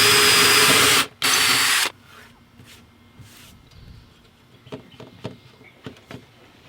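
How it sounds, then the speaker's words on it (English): A power drill whines loudly in two short bursts with a brief pause between, drilling a small hole in a jon boat, followed by quiet clicks and light handling noises. "we're going to drill a small hole right behind right here to run this all the way down"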